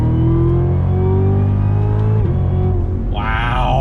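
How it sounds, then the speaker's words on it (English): A Cadillac CTS-V performance sedan accelerates hard with a loud, close, steady engine roar whose pitch climbs, dips briefly at a gear change, then rises again, heard from inside the cabin. "Wow, this thing accelerates so quick."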